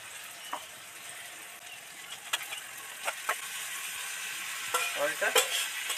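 Chicken pieces fry in a pan with a soft continuous sizzle while a spatula scrapes and knocks against the metal in scattered clicks, busier toward the end, close and fairly quiet.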